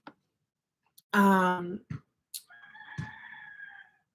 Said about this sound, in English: the chickens are back in the background